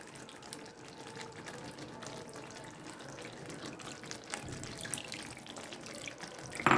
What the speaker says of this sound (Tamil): இப்போ கரைச்சி வச்ச புளி தண்ணியை நல்லா வடிகட்டிட்டு ஊற்றிக்கலாங்க.